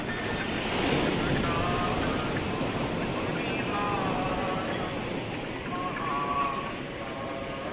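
Sea waves wash steadily against the rocks along the seaside walkway by Somnath temple in Gujarat, a continuous roaring surf under gusting wind, with voices faintly audible in the background.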